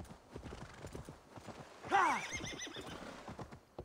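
A horse in the Assassin's Creed Valhalla video game gives one loud, clear whinny midway through, with a steady run of clip-clopping hooves before and after it, close and with no voice over it.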